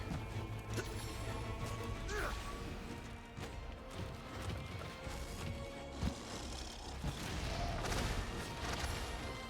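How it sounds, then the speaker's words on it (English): Dense, rumbling explosions and crashing impacts from a fight with Scorned Magnamalo in Monster Hunter pile up continuously at moderate volume, with occasional sharper bursts over a noisy mix. "a lot of explosions there"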